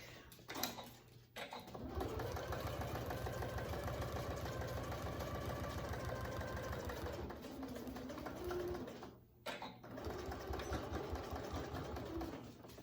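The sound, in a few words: domestic sewing machine stitching a pocket on a range bag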